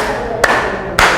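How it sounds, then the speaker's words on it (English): Two distinct claps ring out in a lecture hall as students clap together in time, each a sharp burst over a steady low room hum. "One clap a hand for you. 1, 2, 3."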